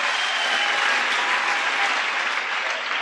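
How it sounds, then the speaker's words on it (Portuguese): A church audience in Hazyview, South Africa applauds a volunteer with dense, steady clapping that fills the room evenly and stays loud throughout. "bata palmas do voluntário"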